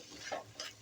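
Cooked rice stirred into tamarind pulihora, a soft scraping and mixing sound in two short bursts, quiet and close, with no voices.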